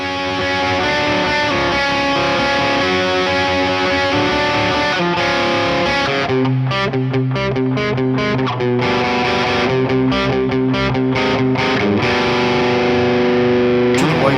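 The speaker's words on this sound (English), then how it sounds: "you've got what's called the MLC Brown Sugar pedal, and this is an overdrive with 4 different modes" Electric guitar played through an MLC Brown Sugar overdrive pedal, gritty sustained distorted chords and riffs ringing continuously at steady loudness with no talking.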